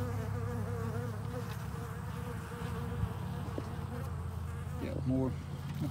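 Honey bees buzz around an early-spring hive in the wind, a continuous low drone of many insects, fairly faint and steady, with a few brief sharper buzzes near the end.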